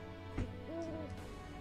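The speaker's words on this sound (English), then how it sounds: "an owl. That's cool." An owl hooting in the video game Fire Emblem Engage, a faint, soft, tonal call heard once over a steady low hum of background music.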